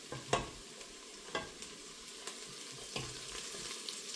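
Chopped onion softening in a frying pan for chicken-breast kabsa, with a steady low sizzle broken by a few sharp scraping stir strokes, close and fairly quiet.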